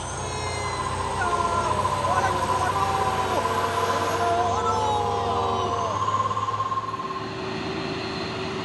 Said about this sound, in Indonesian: Truk trailer Isoteng